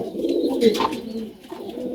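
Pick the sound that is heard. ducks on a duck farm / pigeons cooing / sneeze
pigeons cooing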